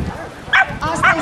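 Dogs at an international dog show in Bucharest give a few loud, close barks and yips in short bursts over a busy hall background.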